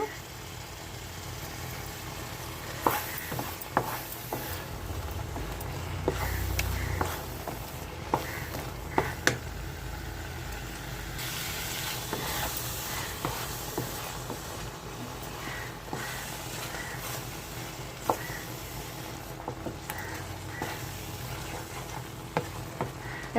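Raw prawns sizzling and frying in a pan for a Telugu prawn fry, with steady close sizzle and repeated stirring scrapes and clicks of a spoon against the pan throughout, no talking.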